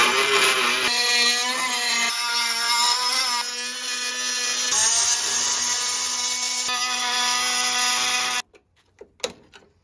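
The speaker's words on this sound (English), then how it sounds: "We're gonna try and drill these spot welds out." Power drill boring out spot welds on the rear quarter panel of a TD42 GQ Nissan Patrol, a loud, steady high whine with slight pitch shifts that runs about eight seconds, then stops, leaving a few faint knocks.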